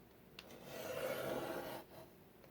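A blade drawn along the score line of a manila folder on a cutting board, one smooth rasping cut lasting about a second, close and quiet.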